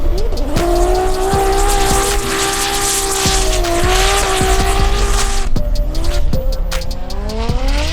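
A Toyota 86 drift car engine screams at high revs while powering away at Manfeild in a D1NZ drifting round, loud and close, with shifting pitch, tire squeal and sharp pops around gear changes.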